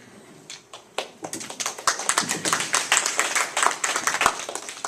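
Scattered claps from a candidates' forum audience quickly build into a burst of lively applause, sharp and crackling, rising in density toward the end.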